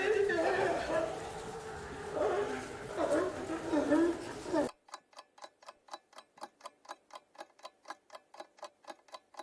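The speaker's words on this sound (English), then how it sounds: "It's a sea lion." A sea lion calls in a rough, continuous stretch of barking and groaning, followed by a steady, even clock ticking on its own.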